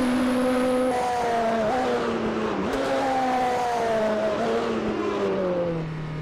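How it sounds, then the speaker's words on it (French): A race car engine in the video game Automobilista 2 screams through the gears on a short straight, pitch climbing and dropping with several shifts, steady and fairly close. "une petite ligne droite pour faire entendre le son de ce moteur"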